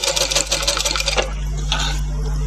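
An electric sewing machine stitches a round neckline on cloth in a tailoring lesson, a fast close whirring run of stitches that stops partway, leaving a low motor hum.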